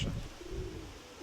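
Pigeons cooing softly as they gather at a loft, a faint low coo heard once against quiet outdoor background.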